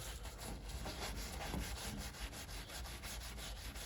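A paper towel rubs steadily back and forth across a 2023 Silverado truck tailgate, a continuous soft close-up scrubbing with a faint rhythmic swish.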